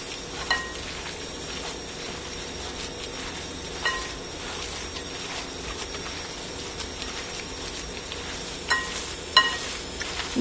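Hands in rubber gloves knead and squish a turkey meatloaf mixture in a bowl. The squelching and rubbing is continuous and close, with a few louder slaps near the end and no talking.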